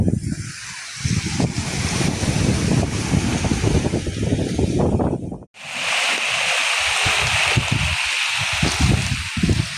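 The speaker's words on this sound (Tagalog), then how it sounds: "naririnig niyo yung ulan." Rain falls on Siruma beach in Bicol on a wet night, a steady, loud broadband hiss that cuts out for a moment near the middle and then resumes just as strongly.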